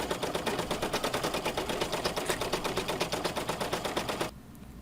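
An embroidery machine stitches an applique, giving fast, even, loud needle rattling at close range that stops abruptly near the end, leaving a faint quiet hum.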